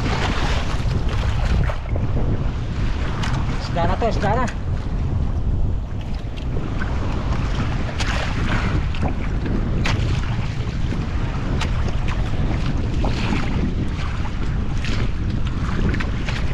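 A fishing boat's engine runs steadily at sea amid heavy wind buffeting the microphone and splashing water, with a man briefly calling out over the noise.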